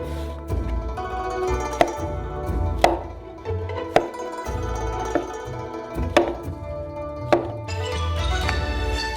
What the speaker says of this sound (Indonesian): Juga jamur champion, setiap jamur dipotong menjadi 4 bagian.